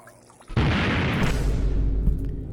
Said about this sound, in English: Crazy explosion.